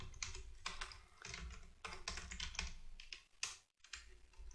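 Rapid typing on a computer keyboard, with dense bursts of key clicks broken by brief pauses, close and fairly quiet, with no voices.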